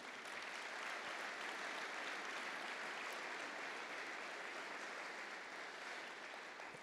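An audience at a school's state-of-the-school presentation gives a round of applause for the chief of police and other staff, a broad, even wash of clapping that carries on steadily from start to finish at moderate distance.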